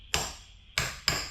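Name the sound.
hammering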